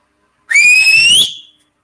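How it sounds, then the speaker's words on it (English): Single clear whistle by a person in a quiet room, a bright pure tone held for under a second that rises slightly at the end and then cuts off, with no other sound around it. "Let me whistle really quick."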